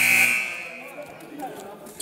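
A game buzzer sounds at a basketball game, a loud, sharp electronic blare that fades within a fraction of a second into crowd noise and voices.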